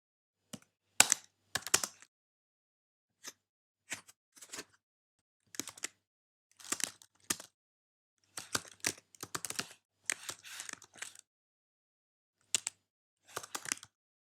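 Code is typed on a computer keyboard in close, crisp clusters of keystrokes with quiet gaps between bursts, irregular in rhythm and with no voice.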